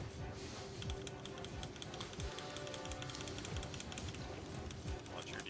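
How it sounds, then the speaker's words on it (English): Someone types hard and fast on a computer keyboard, a steady stream of sharp, loud key clacks over a constant backdrop of game sound. "slamming that keyboard"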